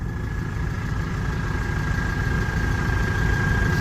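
An engine with steel pistons idling, a steady close low rumble with a faint constant whine running throughout, unchanging from start to finish.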